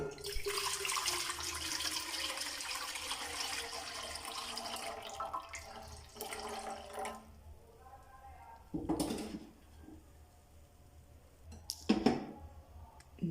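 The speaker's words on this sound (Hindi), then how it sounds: "एक पैन लिया, दूध उसमें चला गया।" Milk is poured into a pan for mango coconut kheer, a steady close splashing stream lasting several seconds, then quieter kitchen clinks and handling noises.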